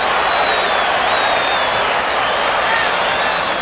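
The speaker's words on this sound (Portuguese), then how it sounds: "Foi aplaudido pela torcida." Stadium crowd at a 1984 Grêmio versus Flamengo Libertadores semifinal football match applauding a player, a steady broad wash of clapping and crowd noise, distant and continuous, with a faint whistle-like tone above.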